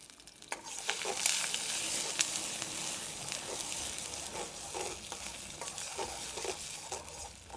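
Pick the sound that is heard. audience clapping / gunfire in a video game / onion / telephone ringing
onion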